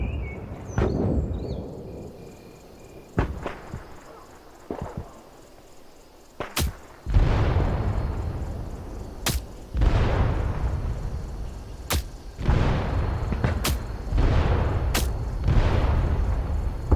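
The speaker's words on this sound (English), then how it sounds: "Now let's use an artillery strike to blast the enemy point before our team advances" An artillery strike pounds an enemy point in the Vietnam War game Hell Let Loose Vietnam: a series of sharp cracks and heavy booming explosions arrive one after another at irregular intervals, some distant, others loud and close.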